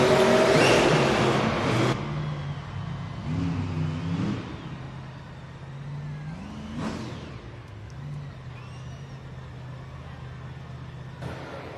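The monster trucks Megalodon and Velociraptor race at a Monster Jam arena event, their engines roaring loudly at the start, then revving and surging over a steady crowd and arena din.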